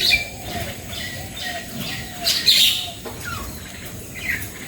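Mynas and bulbuls chirp and call at a morning feeding spot, a steady chatter of overlapping tweets and squawks from several birds, moderately close, with no talking.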